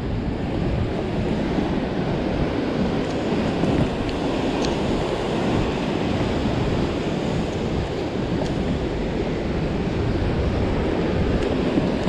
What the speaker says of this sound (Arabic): البحر جاية ها